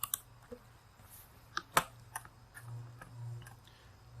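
Scattered key clicks from typing on a computer keyboard while entering a project name in n8n setup, sparse and irregular taps at close range over a low steady hum.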